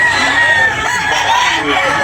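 A rooster crows at a busy chicken market where white hatch fowl are sold, its call loud and close above a steady murmur of voices and clucking.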